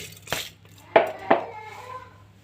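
Washed rice tipped into a pressure cooker for homemade vegetable khichdi, making a few close metallic clinks and a soft grainy pour against steady kitchen hum.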